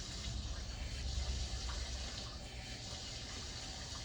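Water is poured from a container onto potted herbs indoors, a soft continuous splashing pour that eases off toward the end.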